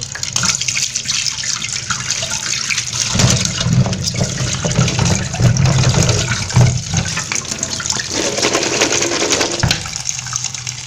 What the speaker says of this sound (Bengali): তো আমি আলুটা ভালো করে ধুয়ে নেই।